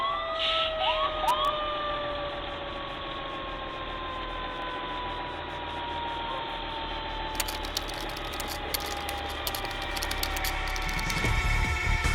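A fire engine siren wails in long rising and falling sweeps over steady traffic rumble, with a burst of louder clatter near the end.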